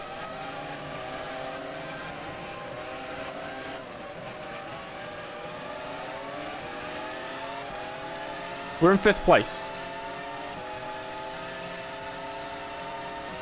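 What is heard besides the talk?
race car engines in a video game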